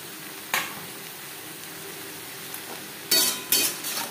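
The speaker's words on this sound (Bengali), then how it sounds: "পেঁয়াজও বেশ ভালো করে ভাজা হয়ে গেছে।" Onion and sliced ridge gourd fry in a pan over a low-to-medium gas flame, a faint steady sizzle broken by a spatula scraping and stirring, one scrape early and a cluster of louder strokes near the end.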